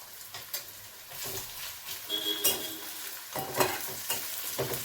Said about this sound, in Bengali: ফ্লেমটা একটু সিম করে দেবেন, মানে কমিয়ে দেবেন, সো দ্যাট এটা নরম হয়ে যায় পেঁয়াজটা আর একটু ব্রাউনিশ হয়ে যায়